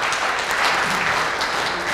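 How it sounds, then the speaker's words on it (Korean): At a year-end foundation sponsors' gala, a crowd applauds in a continuous, fairly loud patter of many hands, steady throughout with no voices breaking through. "우리가 모두 다 큰 박수로 한번 청해 보겠까요?"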